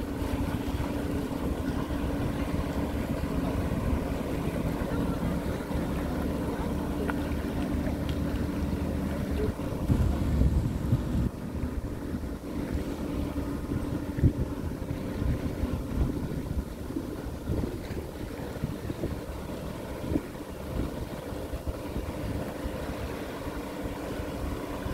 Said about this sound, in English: a fun filled adventure jet skiing out here on Lake Volta at Treasure Island